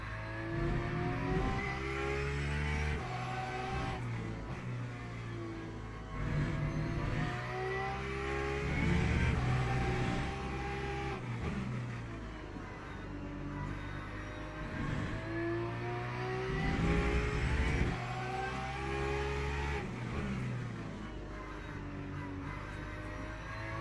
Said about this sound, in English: the Porsche sounds really, really nice